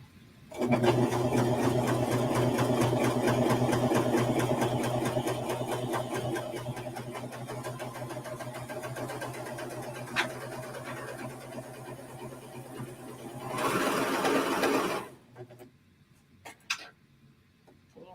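A Pfaff serger sews and cuts fabric with a fast, steady mechanical chatter close by, holding for about fourteen seconds, briefly rising near the end and then stopping, followed by a few faint clicks.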